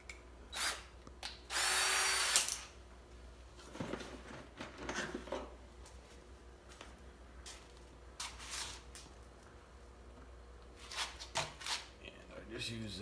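A power drill gives a short, loud whir of about half a second while horns are being set in place, among faint clicks and handling noises, with a quiet voice in the background.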